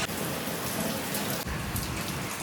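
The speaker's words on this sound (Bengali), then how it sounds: "ঝমঝমিয়ে বৃষ্টি পড়ছে, 6টার দিক করে এরকম বৃষ্টি পড়ছে হঠাৎ করে" A sudden heavy evening downpour pours down steadily, a dense, close, unbroken roar of rain hitting surfaces, with no voices.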